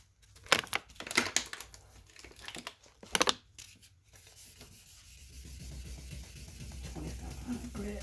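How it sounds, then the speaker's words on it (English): A car headlight lens being wet-sanded with 2500 grit sandpaper; after some brief handling noises, a steady, moderately quiet scratchy rubbing continues evenly through the second half. "I'm just going to give this a quick wipe and do the pass with the 2500."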